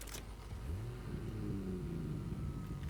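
A car driving in the Fortnite video game, its engine rumbling steadily with some revving throughout, heard on its own with no voices over it.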